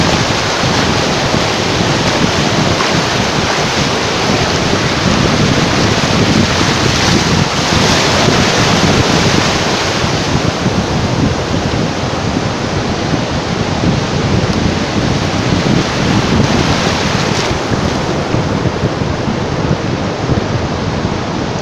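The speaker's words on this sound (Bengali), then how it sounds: "বিরতিহীন ঢেউ অবিরাম অবিরাম চলছে চলছে" Continuous sea surf breaking on the shore at Cox's Bazar beach, a dense, steady roar with wind buffeting the microphone throughout and no voices.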